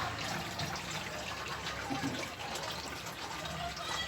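Water pours into a drinking container at a small backyard chicken coop, a continuous splashing and gurgling stream, close and fairly soft, with no talk.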